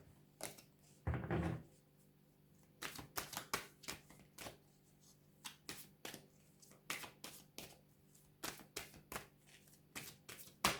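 Tarot cards are shuffled close by in a quiet room: one longer riffle near the start, then many short, crisp flicks and taps in an irregular rhythm. There is no talking.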